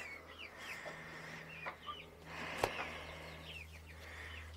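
Chickens cluck softly and repeatedly at moderate distance on a farm, with a low steady hum and a sharp brief knock partway through.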